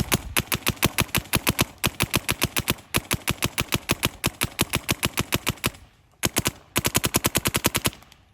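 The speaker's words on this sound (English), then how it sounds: "We're going to try and shoot it here again." A Shocker Era mech-frame paintball marker fed by a revised JT Triad loader fires in rapid volleys of sharp, evenly spaced shots, breaking off briefly near the end before another quick burst.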